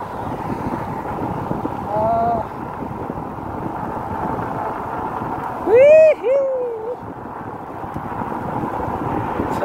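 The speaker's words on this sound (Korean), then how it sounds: "바람도 불고" Steady wind roars across the microphone during an after-work bicycle ride in Jeju. Brief whistling, chirp-like tones rise above the constant rush.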